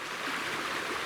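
Seneca Creek flowing nearby, a steady broadband rush and babble of water, continuous and fairly close for about a second.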